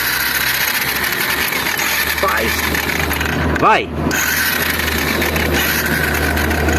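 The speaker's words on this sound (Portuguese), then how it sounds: "Isso aqui tá com barulho de cremaleira." Honda Fan 125 motorcycle, a 2022 model with a rattling engine fault, idling with a steady rough mechanical rattle close up, someone briefly speaking over it and a short sharp rev or squeak partway through.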